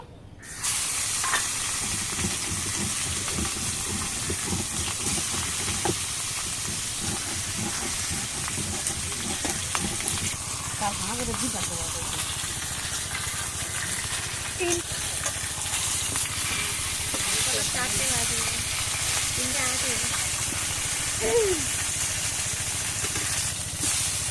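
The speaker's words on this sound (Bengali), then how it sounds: "এবার বাকি মাছগুলো আমি এক এক করে ভেজে নেব।" Pieces of large pond-caught fish frying one by one in hot oil give a steady, loud sizzle with broad hiss that lasts throughout. A faint voice occasionally sounds beneath it.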